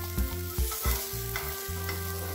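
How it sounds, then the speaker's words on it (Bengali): Shredded cabbage being stirred in a frying pan for a cabbage pizza, with several rhythmic scrapes and knocks of a spatula over a soft continuous sizzle, close and fairly loud. "হালকা করে একটু নেড়ে নিলাম, নেড়ে তুলে নিচ্ছি।"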